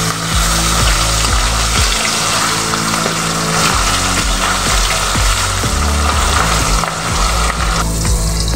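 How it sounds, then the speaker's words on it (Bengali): Pomfret fish frying lightly in a pan gives a steady, loud broadband sizzle that runs the whole time beneath continuous background music. "খুব বেশি কড়া করে ভাজবো না, হালকা একটু নেড়ে চেড়েই আমি তুলে নেব।"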